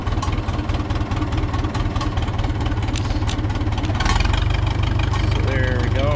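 A John Deere 3010 tractor engine runs close by with a steady, rapid low chugging that grows slightly louder partway through, while a person talks over it.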